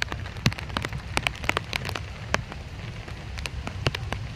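Light, fine rain falls outdoors near a parked two-wheeler and a residential building, with a steady wash of patter and many sharp, irregular drops striking close surfaces throughout.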